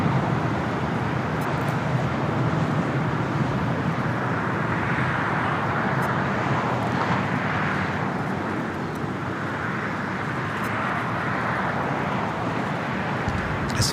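A United Airlines 757-200 takes off from LAX, a steady broad roar of jet engines holding loud and constant, with no one speaking.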